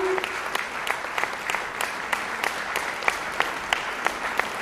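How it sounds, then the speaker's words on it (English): Audience at a ceremony honoring completion of school toilet construction keeps up sustained applause, a dense wash of clapping with some sharper individual claps standing out, steady and moderately distant. "may I request their applause should not die down"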